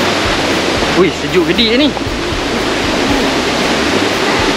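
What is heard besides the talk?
mini waterfall at Draco Nature Camp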